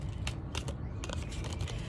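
Soft, papery riffling bursts repeat in quick clusters, a deck of tarot cards being shuffled close by over a steady low background hum.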